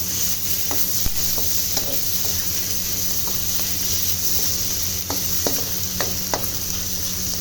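Onions and sliced hotdog sautéing in a pan for soup give a continuous hissing sizzle, with scattered light taps and scrapes of a spatula stirring, heard close and steady without talk.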